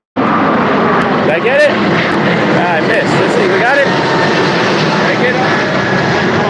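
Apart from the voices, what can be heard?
airplane flying overhead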